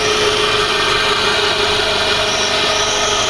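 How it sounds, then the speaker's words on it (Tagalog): A Nissan Almera with a manual transmission and a broken water pump runs rough, giving a loud, continuous, noisy engine drone with a whining tone and no talk over it. "So yung sobrang ingay mga kalbularyo ay sira ang water pump."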